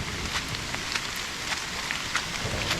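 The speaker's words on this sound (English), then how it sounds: "I know it's raining rather hard, plus the thunder." Heavy rain pouring in a forest during a thunderstorm, a dense, loud, continuous hiss of drops hitting leaves and ground with scattered louder splashes, no voices.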